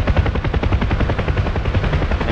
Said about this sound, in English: the helicopters are in to capture North Tinian